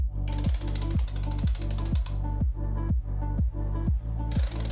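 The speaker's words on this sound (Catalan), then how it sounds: "Ara ja li donarem el parell de força a la femella, aguantant amb l'altra mà el botador que aguanta l'eix." Torque wrench ratcheting on the front axle nut of a Macbor Montana XR1 motorcycle, a loud close series of rhythmic clicking strokes with brief pauses between pulls.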